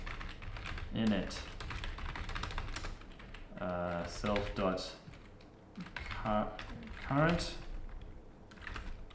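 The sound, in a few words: typing Python code on a computer keyboard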